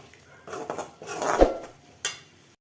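Mushroom masala with coriander leaves mixed in a pan, a few short scraping and clanking strokes of a spoon against metal, close and brief, with no voices.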